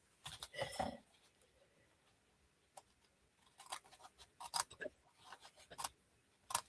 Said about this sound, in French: Je vais aller découper les surplus